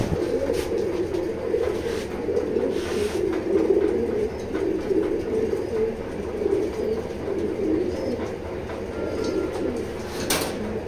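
Pigeons coo in a loft where the birds are kept for sale, a soft, continuous murmur of overlapping low calls with a few brief clicks and rustles, and no voices.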